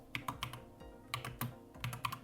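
Bursts of keystrokes on a computer keyboard while a name is typed into a website builder field, quiet and close, coming in short uneven clusters with brief pauses between them, no voices.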